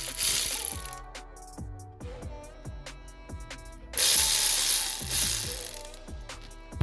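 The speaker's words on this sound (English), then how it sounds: "them two we can tighten up with the ratchet" Oil filter housing bolts on a BMW 1 Series are tightened with a hand ratchet, giving repeated close clicking strokes in a steady rhythm, with a louder stretch partway through.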